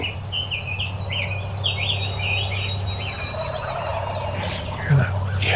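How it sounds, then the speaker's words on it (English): Wild turkey gobblers on the roost sound a series of rapid, warbling gobbles from a distance in a quiet outdoor setting, moderately loud over a low steady background hum. "Those gobblers are still on the limb."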